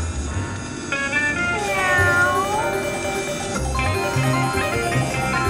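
A slot machine's cat-themed game plays a loud meowing cat sound amid bright bell-like chimes and jingles, with a voice talking over the casino noise.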